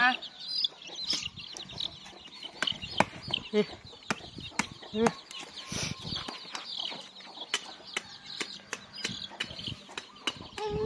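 Chickens, including a large three-coloured one, cluck and scratch nearby in a rural Thai yard, with sharp pecking and clicking sounds throughout and people talking at times.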